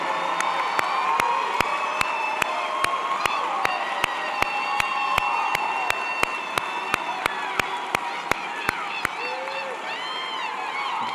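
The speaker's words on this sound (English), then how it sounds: "Everyone, please join me in a round of applause for the Poole College of Management class of 2023." Graduation ceremony crowd for a college of management class of 2023 breaking into applause with cheers and whoops, a broad roar of clapping and voices, while a sharp regular clicking ticks through most of it.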